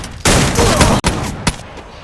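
Dense burst of automatic gunfire from a battle-royale video game tournament match, loud and close, rattling steadily for most of the stretch with a brief break and a sharp extra shot near the end.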